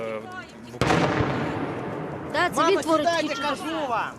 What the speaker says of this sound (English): You can hear the artillery. That is outgoing fire from Ukrainian forces.